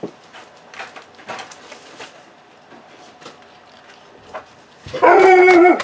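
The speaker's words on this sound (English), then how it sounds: "Sorry about the dog barking." A dog barks at close range in a burst of loud, sharp yelps near the end, following quieter crafting sounds of paper and tape being handled.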